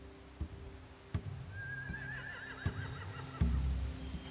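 In a video game scene, a horse gives a single wavering whinny at moderate volume. It plays against low ambient rumble, with a few thumps and hoof-like knocks spaced around it and a heavier thud toward the end.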